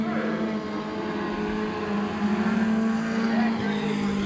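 Mini stock race cars at the Bakersfield Speedway oval during a heat race, engines droning steadily and close for the whole stretch, with a sustained roar and a slight swell as cars pass.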